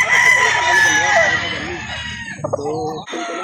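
A rooster crows loudly and repeatedly at a chicken market in Calauan, Laguna, its long strained calls close by, with clucking fowl and faint background chatter around it.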